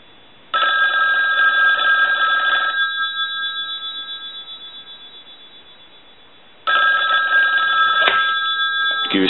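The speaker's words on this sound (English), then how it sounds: "Now we're going to do it on a normal ring cycle. I'll let that go a few times." A Northern Telecom rotary desk telephone rings on a normal ring cycle: a loud, close metallic bell rattles for about two seconds, fades slowly into silence, then a second ring burst starts, with no talk.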